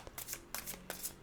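Tarot cards shuffled for a reading, three quick riffling bursts close to the microphone in an even rhythm, soft and crisp with no talk.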